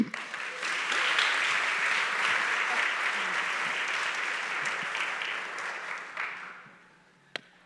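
Audience applause welcoming Jamie Siminoff and Kate Brosnan onto a stage, a steady broad wash of clapping that holds for several seconds, then tapers off and ends with a single sharp knock.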